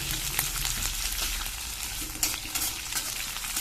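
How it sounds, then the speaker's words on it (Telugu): Green chilies fry in hot oil in an iron pan, giving a steady bright sizzle and crackle with occasional louder spits, heard alone without talk. "మిరపకాయలు వేద్దాం ఇందులోనే. మిరపకాయలు మంచిగా గోలాలి"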